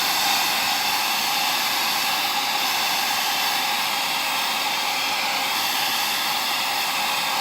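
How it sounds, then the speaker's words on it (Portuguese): Hair dryer blowing on fresh paint on a miniature battle tank, a loud, steady whooshing hiss with a constant motor whine running unbroken throughout. "Deixa eu dar passar o secador."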